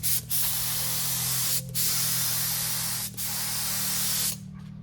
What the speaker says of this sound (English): let's test out the spray pattern on the gun